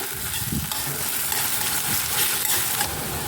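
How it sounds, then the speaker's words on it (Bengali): Chopped onion frying in hot oil in a pan, a steady loud sizzle and crackle with soft stirring scrapes throughout, no voices. "পেঁয়াজ কুচি দিয়ে এক মিনিট ভেজে নেবো"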